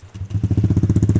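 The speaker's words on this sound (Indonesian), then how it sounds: "Kita review suara knalpotnya" A Honda Beat Street scooter with a replacement aftermarket exhaust is revved up from a low idle into a loud, fast, throbbing pulse. The engine note is close and steady, with an evenly repeating beat.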